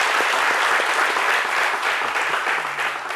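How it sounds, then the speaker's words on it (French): A crowd gives close, full applause in an even, dense burst that holds steady, then begins to thin out toward the end. "Ça mérite des applaudissements."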